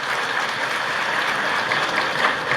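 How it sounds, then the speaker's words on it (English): Audience at an investment summit in Dhaka applauding in a steady, dense burst of clapping that stays loud and even throughout. "A big round of applause for that"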